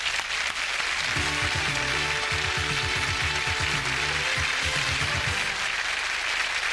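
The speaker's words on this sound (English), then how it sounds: "And a round of applause, which we hope will send you on your way with a smile." Game show studio audience applauding steadily and densely throughout, with a low rhythmic tonal pattern running beneath the clapping.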